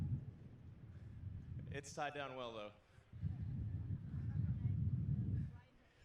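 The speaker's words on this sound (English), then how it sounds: "quite windy here." Gusty outdoor wind buffets the microphone as a heavy low rumble, rising and falling, with a person speaking briefly in a lull between gusts.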